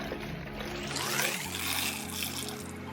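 Three and a quarter cups of water are poured into a bowl for vegan vanilla cake batter, a rising trickle and gurgle as the bowl fills, close and fairly quiet.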